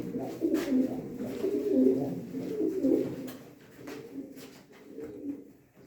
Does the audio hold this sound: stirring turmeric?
no